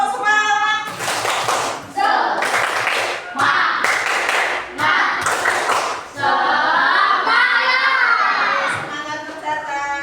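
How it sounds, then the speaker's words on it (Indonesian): A classroom of children performs a rhythmic spirit clap, bursts of loud unison claps in a patterned beat, alternating with children's chanting voices and shouts close by. "Tepuk semangat."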